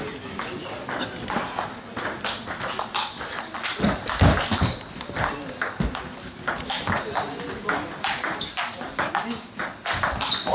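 Table tennis ball rapidly ticking back and forth in a crowded club hall during an amateur tournament, quick light taps in irregular rhythm with people talking throughout.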